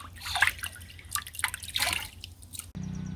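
Water drips and trickles from a freshly washed wool fleece rinsed in cold water, a run of soft irregular splashes and dribbles at close range, then a brief low steady hum near the end.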